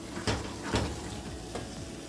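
Water added to peanut paste cooking in a pot, giving a steady hiss and sizzle with a few soft scraping thuds, close and moderately loud, no talking.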